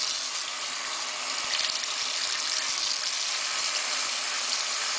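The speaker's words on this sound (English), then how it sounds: "And now run your water." Tap water runs steadily into a sink or bath basin, a continuous close splashing rush that stays even throughout with no talk.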